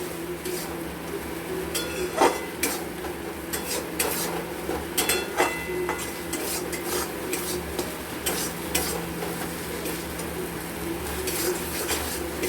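A spoon scrapes and clinks against a pan as a spiced masala for prawn paneer is stirred and fried, with a steady sizzle beneath repeated close stirring strokes and no voices.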